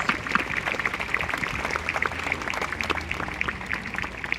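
A graduation audience applauds for members from sending communities at a high school ceremony, a dense, continuous patter of many hands clapping from a crowd.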